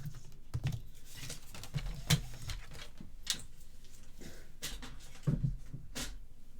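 Scissors snip through card for a gate fold easel card, a series of sharp close clicks and crisp cuts at irregular intervals, quiet and without speech.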